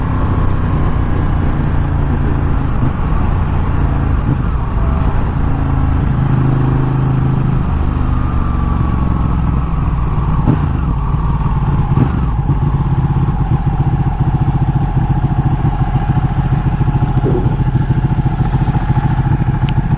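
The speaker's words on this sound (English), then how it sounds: "For me, it takes a little bit getting used to the Ducati V-twin and the way that power band kicks in." A Ducati V-twin superbike of about 200hp roars continuously while being ridden, engine pitch climbing and falling through gear changes over steady wind and road noise, loud and close, with no voices.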